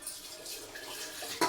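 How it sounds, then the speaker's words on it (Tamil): Dishes and pots are washed in a small sink, with running water from the tap and light clinks of utensils, ending in a sharper clatter. "இப்போ போய் இத்தனை பாத்திரம் இருக்குது, எல்லாத்தையும் கழுவுவோம்."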